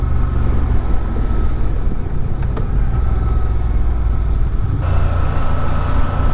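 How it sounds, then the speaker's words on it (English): A 2023 Honda Transalp XL750 motorcycle engine runs steadily at around 3,000 rpm through a village, a constant loud drone mixed with wind rush, with a slight shift in tone near the end. "I think this is an engine that likes to be revved."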